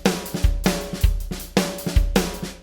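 Full drum beat from a 2018 version, punchy kick and snare hits with cymbal wash in a steady driving rhythm, loud and close with sustained tonal backing underneath.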